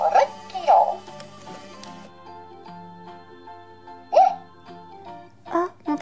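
A Hatchimals toy gives several short, squeaky electronic hiccups, spaced irregularly over a few seconds, with a faint tonal hum underneath.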